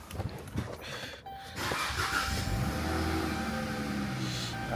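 A daily-driver car with a check engine light fault is started: a short cranking burst, then the engine catches and settles into a steady idle hum that holds to the end.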